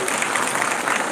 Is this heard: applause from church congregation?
yes